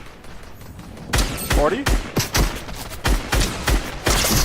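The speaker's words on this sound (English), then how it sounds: "Let's see if I can land some shots on these players." Gunshots ring out in Fortnite, a string of sharp, loud single shots at irregular intervals, close up, with a voice talking briefly in between.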